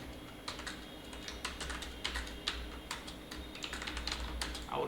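Keys clatter on a computer keyboard as a file name is typed, giving a close, irregular run of quiet plastic clicks in short bursts with brief pauses between.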